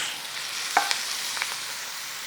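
Savoury mince for mince and mash frying in a pan, a steady close sizzle broken by a few sharp scraping stirs at intervals.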